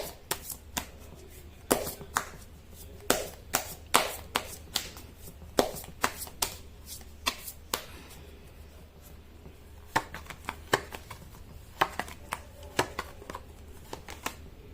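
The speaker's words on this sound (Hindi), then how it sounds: "कर लेती हूँ कार्ड की शफलिंग।" Tarot cards shuffled by hand during a reading, a rapid run of crisp riffling slaps and soft card rustles in uneven bursts, close and quiet, with no talking.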